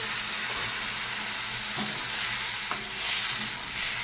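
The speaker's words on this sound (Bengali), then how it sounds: "আমি মশলাটাকে আর একটু কষিয়ে নিচ্ছি" Spice paste for a hilsa fish head, pointed gourd and potato curry being sautéed in a pan, a continuous loud sizzle with soft stirring scrapes, close and with no voices.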